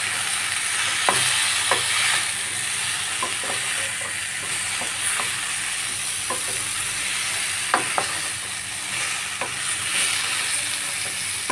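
Chopped taro greens dropped into a hot frying pan of vegetables, giving a continuous loud sizzle with scattered clicks and scrapes of stirring throughout, no voices.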